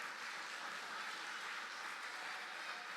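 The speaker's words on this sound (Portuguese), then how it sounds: "Quem entendeu, dá uma salva de palmas para o Senhor." Crowd applause from a church congregation during a sermon, a steady, dense wash of clapping filling the whole stretch at moderate level with no speech over it.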